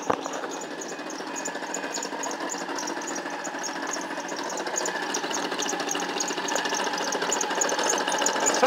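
Car engine running with a persistent mechanical noise suspected to come from a recently redone clutch, a steady close droning hum with a rapid rattling texture that slowly grows louder, no speech.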